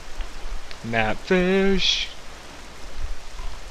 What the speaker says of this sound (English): Oh, great, it's gonna rain.